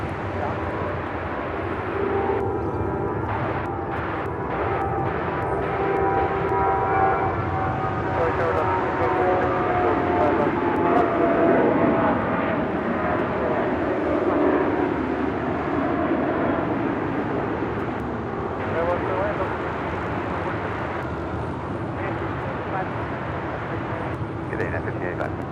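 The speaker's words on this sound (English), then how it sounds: "Next departure here on the south side is United Airlines Flight 1585 heading to Denver at a 737-800." A United Airlines Boeing 737-800 departs LAX with a rising, swelling jet roar in the distance, while people talk over it throughout.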